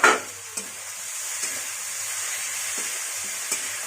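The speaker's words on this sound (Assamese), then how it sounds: "মাজতে মই এইখিনি এবাৰ লৰাই দিম" Local chicken cooking with butter in a pot, stirred with a few scraping strokes over a steady close sizzle and hiss.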